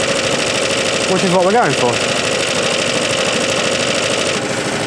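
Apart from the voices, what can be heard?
Suffolk Super Punch mower engine revving, clutch disengaging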